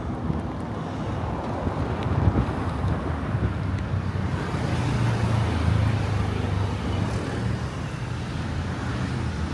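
Steady freeway traffic roars along a roadway, heavily buffeted by wind on the microphone, a continuous dense rumble with no clear individual passes.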